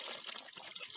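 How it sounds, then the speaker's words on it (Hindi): Water running over lead-acid battery terminals as they are rinsed clean, a steady close splashing flow with no pauses and no voices. "अभी ये जो बैटरी के टर्मिनल्स हैं इसको हम पानी से ऐसे धो के रिंस करेंगे, धो के रखेंगे।"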